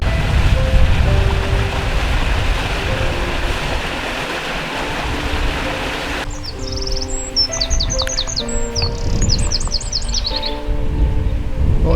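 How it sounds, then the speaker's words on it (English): Outdoors by a small church and a little bridge over a river tributary, a steady rushing wash of water gives way to clear bird chirps and repeated trilling phrases in the second half, fairly close, without voices. "I can hear birds singing in the background"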